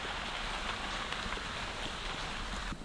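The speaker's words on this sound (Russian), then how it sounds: "начал накрапывать дождик" Light drizzle begins outdoors on a winter trip in Crimea, giving a soft, steady patter of fine raindrops that continues evenly throughout at moderate loudness.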